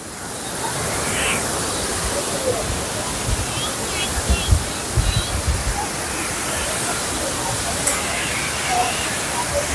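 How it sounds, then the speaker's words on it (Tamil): Water tumbles down hillside falls at Achankovil on the Tamil Nadu–Kerala border, a broad, steady roar of rushing flow, loud and close, with faint voices of people in the background. "இந்த சைடும் தண்ணி வருது, அந்த சைடும் தண்ணி வருது."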